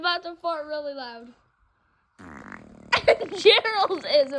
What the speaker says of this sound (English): Wombat is about to fart really loud